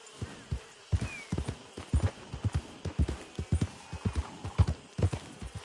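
Horse hooves clip-clop on the ground in Red Dead Redemption 2, a steady rhythmic series of close, loud thuds at a brisk walking pace.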